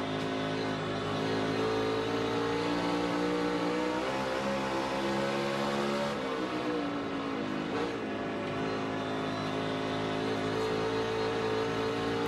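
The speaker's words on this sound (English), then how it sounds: "that's where you hear him rev it up a little bit, and that's to spin the rear tires to get Turn 2." A NASCAR Cup race car engine on the Bristol dirt track roars steadily at high volume, its throttle blipping and revving in surges, with no talk over it.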